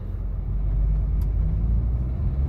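A Renault Fluence 1.5 dCi 110 PS diesel with automatic gearbox is out on a test drive, giving a steady low engine and road rumble heard from inside the cabin, with no talking.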